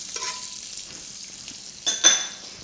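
A little butter sizzling in an electric fry pan before pancake batter goes in, a soft continuous hiss with a brief louder burst near the end and faint utensil clinks.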